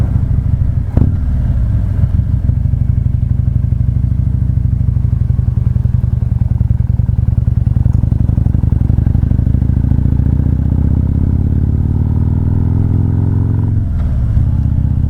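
A Yamaha V-Star 650 cruiser motorcycle rumbles loudly and steadily while riding a narrow mountain road near Berry Mountain, its engine drone continuous with slight revving changes and no talk.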